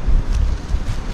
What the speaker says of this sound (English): Yeah, pretty windy today.